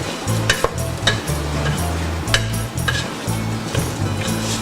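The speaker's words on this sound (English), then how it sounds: "Give this a mix." Broad beans and spices stirred in a hot pan, a spoon scraping and clinking steadily against the metal over continuous sizzling and frying, close and fairly loud.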